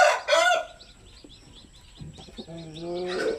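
Native Basilan and Zampen chickens with a brood of newly hatched chicks: a loud crow or squawk up close at the start, then soft peeping chicks and clucking, ending with another drawn-out call.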